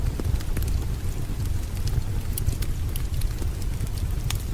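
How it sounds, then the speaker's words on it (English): A crackling fire with steady rain falling around it, continuous snaps and pops over a soft, even rush of rainfall, close and relaxing with no talking. "A crackling fire with rain."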